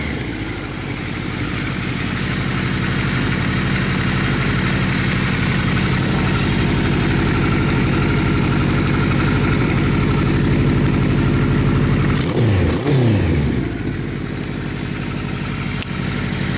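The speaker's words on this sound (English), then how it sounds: "As you can hear, it's a great running bike." A 1976 Kawasaki Z900 motorcycle engine runs loud and close at a steady, throbbing idle, then gives a short sharp rev near the end before settling back to idle, with no talking.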